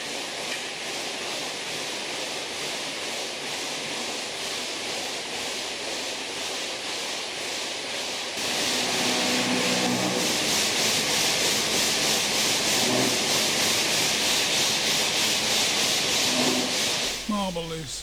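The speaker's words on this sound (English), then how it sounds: "The slice of granite is fed on rollers into a polishing machine." At a granite finishing plant, a polishing machine grinds a slice of granite fed in on rollers, making a continuous harsh rubbing roar that swells louder about halfway through and holds steady.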